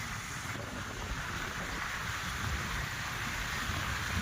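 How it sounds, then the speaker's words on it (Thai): Rain falls over the sea near stilt houses on the water, a steady close hiss of drops mixed with low wind and water rumble, with no voices heard. "ตอนนี้ฝนตกนะ"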